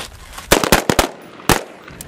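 Marines fire rifles at targets on a combat marksmanship range, several sharp loud shots cracking close by in quick irregular succession, then a pause and two more.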